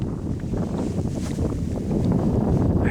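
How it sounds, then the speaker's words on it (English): Gusty wind buffets the microphone outdoors on a cold November day in Ohio hunting country, a continuous low rumble swelling slightly toward the end, with no voices. "It's fairly windy today."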